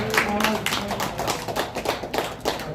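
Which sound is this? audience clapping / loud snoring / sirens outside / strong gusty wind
audience clapping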